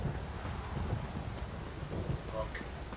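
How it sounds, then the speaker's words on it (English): In The Witcher 3: Wild Hunt, steady rain falls while low thunder rumbles, all faint and continuous through the short stretch. "If it don't stop raining, my arse will rot off."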